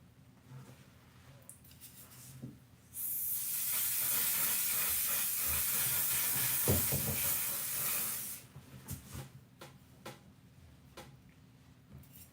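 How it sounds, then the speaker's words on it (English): A One Size setting spray hisses out of an aerosol can in one continuous, close burst of about five seconds, bracketed by soft clicks and small handling sounds before and after. "This is my favorite setting spray by One Size because it works really well with my skin."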